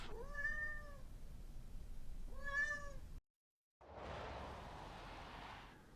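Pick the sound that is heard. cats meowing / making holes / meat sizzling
cats meowing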